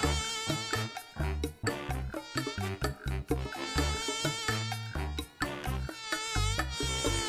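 A cartoon sound effect of mosquitoes gives a loud, continuous, high-pitched buzz that swells and wavers in rapid pulses, with no speech.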